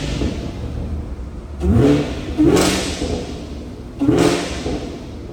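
A supercharged 670 hp 2019 Camaro 2SS 1LE with a six-speed manual revs in three sharp bursts over a steady idle, each rising quickly and falling back between blips; no voices are heard.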